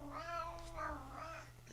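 A house cat meows two or three times in a row, drawn-out rising and falling calls, fairly quiet and close in an indoor room with no talking.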